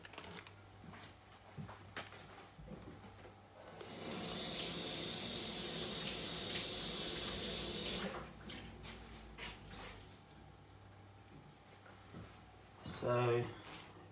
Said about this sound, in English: Let me just wash a bit of spinach first.